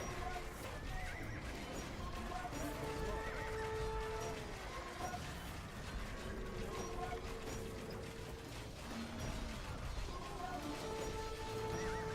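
Cavalry horses whinnying repeatedly among clopping hooves and mechanical clanks of an Age of Empires battle, with camels and cataphracts nearby, a busy steady game soundscape mixed under faint talk.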